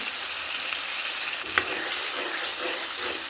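Fish curry with mustard paste, chili and turmeric powder stirred in a pan over the heat, a continuous dense sizzle with one sharp knock of the spoon midway, no voices.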